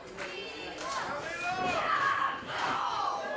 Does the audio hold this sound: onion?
no